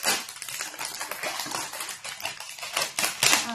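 Plastic packaging on an onion hair oil product being torn and peeled open up close, a continuous crinkling and crackling with sharp snaps, steady throughout with no talking.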